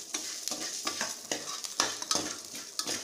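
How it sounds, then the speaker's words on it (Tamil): Garlic sizzles in a hot pan over a low flame while being stirred, with a steady frying hiss and regular scraping strokes every half second or so. "பூண்டையும் போட்டு நல்லா சிம்மில் வச்சு நல்லா வதக்குங்க."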